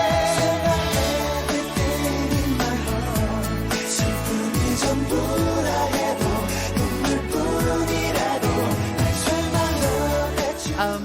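K-pop track plays continuously and loud, with a steady beat, bass and dense layered instrumentation throughout.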